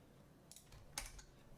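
A few quiet keystrokes tap on a computer keyboard while a git clone command is typed. The clicks are soft and brief, clustered near the middle of a near-silent moment.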